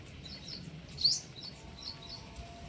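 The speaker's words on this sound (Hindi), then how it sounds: "इसलिए ये चिड़िया बहुत है सिकंदर भाई।" Small birds in a tree near a house give faint, high chirps and tweets in short scattered bursts, one call slightly louder, over a quiet outdoor background without talk.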